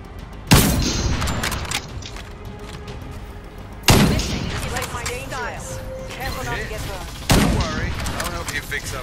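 Video game gunfire: three loud, sharp bursts about three and a half seconds apart, each followed by a rattling mechanical tail and lingering game noise.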